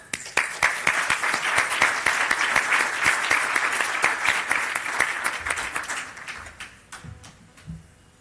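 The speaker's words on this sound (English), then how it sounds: "So please give a round warm of applause for them." An audience on the main stage of a military influencer conference gives warm applause for Army recruiting representatives: steady, dense clapping that builds, holds, then thins out into a few last claps and murmurs.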